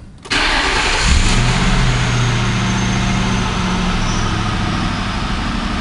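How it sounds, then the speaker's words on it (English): A 2008 Ford Crown Victoria Police Interceptor cranks and fires up after an EGR valve replacement, then settles into a steady, loud idle with a brief rev near the start, close by with no talking. "So let's see if the car starts up."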